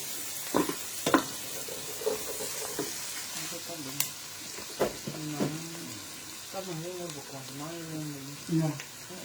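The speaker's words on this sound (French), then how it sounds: "Ça c'est l'ail ça. Ça crame comme ça donne un très bon parfum." Garlic frying in a hot pan, a steady sizzle running throughout with occasional clatter of stirring, while people talk nearby over the cooking noise.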